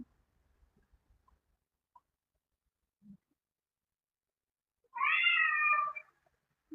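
A cat gives a single clear meow, moderately close and alone, after near silence broken by a few faint ticks and taps.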